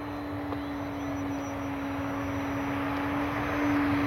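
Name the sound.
RC airplane flying past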